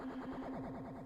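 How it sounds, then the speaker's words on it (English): Tape sample of a theremin, a faint wavering tone warbled by a low-frequency oscillator, sweeping up and down rhythmically in a short murky fragment. "So this was a sample of a theremin on tape."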